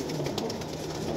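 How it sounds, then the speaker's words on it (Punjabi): Pigeons, a breeder's stock offered for sale in pairs, give a soft, continuous cooing close by over steady background noise, with no voices. "ਬਹੁਤ ਹੀ ਅੱਛਾ ਕਬੂਤਰ ਹੈ।"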